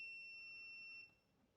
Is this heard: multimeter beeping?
yes